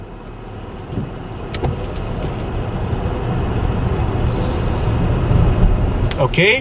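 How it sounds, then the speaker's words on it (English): Hyundai Tucson N-line plug-in hybrid driving at about 40 km/h and braking: a steady interior road rumble and tyre roar that swells slightly toward the end, with someone talking over it. "I'm at 40 kilometers per hour, and now I do a brake."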